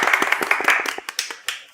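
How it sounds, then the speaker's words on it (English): A single person gives a soft, sparse golf clap, a dozen or so light hand claps at an uneven pace that slow and thin out toward the end, close and alone. "Golf clap for you, sir."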